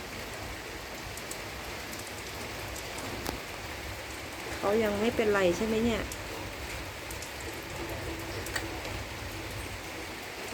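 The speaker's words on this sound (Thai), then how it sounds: "รู้แหละว่าหลบฝนะ่ะเพราะตอนนี้ฝนตก" Rain falls steadily outside a home, a continuous pattering hiss that carries on throughout while a voice speaks briefly in the middle.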